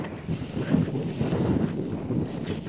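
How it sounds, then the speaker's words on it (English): Steady wind buffets the microphone outdoors at a cold, exposed high point reached by many stairs, a continuous low rumbling roar with gusts and no voices. "It's windy. It's cold."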